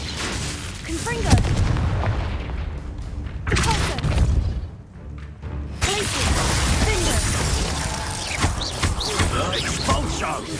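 Confringo fire-blast spell cast in a Harry Potter video game: repeated loud, sharp, crashing bursts with booming, gunfire-like impacts, broken by brief pauses, with a voice shouting over parts of the clip.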